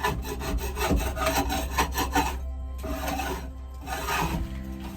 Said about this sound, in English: I'm gonna have to scrape some of this off.